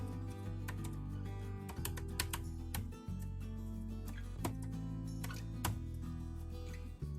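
Code typed on a computer keyboard, a quiet steady stream of key clicks with brief pauses, close and alone.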